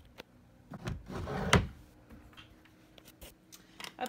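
A drawer in a toddler boy's bedroom storage unit slides open with a close wooden rumble and thump, followed by a few quieter knocks and clicks of its contents shifting.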